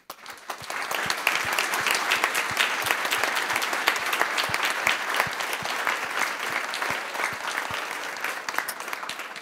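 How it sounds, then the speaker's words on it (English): Conference attendees at a green and blue infrastructure planning event applaud their international speakers, with sustained, crisp clapping from a roomful of people, individual claps audible in the mix, rising quickly and staying level for several seconds. "Please give them a round of applause."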